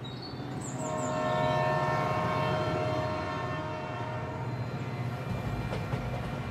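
A Bandel–Katwa train rumbles past as a steady, loud roll of wheels on rails, and a drawn-out horn note sounds over it early on.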